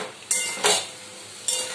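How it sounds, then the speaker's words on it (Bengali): Eggplant pieces go into a pan of cooking greens, giving three sharp clattering stirs and clinks of a utensil over a faint sizzle, close and without talk. "এবার আমি এর মধ্যে বেগুনগুলো দিয়ে দেব"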